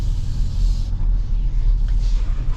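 2026 Ford Ranger Lariat pickup with a 2.7 V6 heard from inside the cab while driving, a loud, steady low-frequency road and engine rumble that surges slightly and fades.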